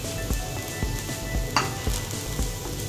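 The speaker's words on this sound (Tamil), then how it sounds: "ஜஸ்ட் அந்த ஃப்ளேவருக்காக நம்ம கொஞ்சம் வதக்கி எடுத்துக்கலாம்" A steady, crackling sizzle of puffed rice being sautéed in a hot pan, with a light stirring scrape now and then; no voices.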